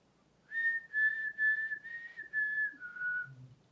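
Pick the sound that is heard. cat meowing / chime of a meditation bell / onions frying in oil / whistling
whistling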